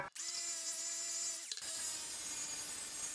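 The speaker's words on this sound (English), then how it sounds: "Use a diamond polishing pad." A power tool fitted with a diamond polishing pad works the edge of a shower floor tile. It makes a loud, steady high whine with a brief dip midway, then turns into a rougher, broader grinding hiss.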